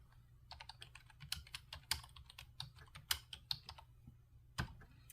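Fingers type on a computer keyboard in quick irregular bursts of crisp, close key clicks, with a few louder strokes and short pauses between runs, with no talking.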